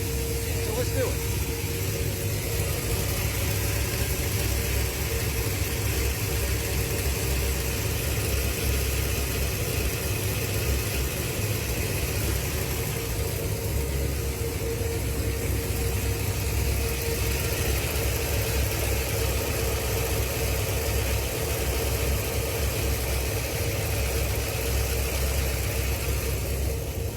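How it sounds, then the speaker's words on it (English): A Ford Galaxie V8 engine idles steadily while its carburettor air-fuel mixture is adjusted, giving a continuous, even, close-up rumble with no change in loudness throughout. "you can hear that the engine sped up 50 to 100 RPM"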